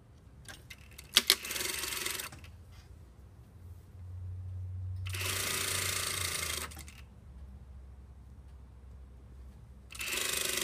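A domestic sewing machine pin stitches along a seam edge over overlocked fabric in short runs: rapid whirring bursts of stitching separated by quiet pauses, with a few small clicks of handling between them, close and fairly loud.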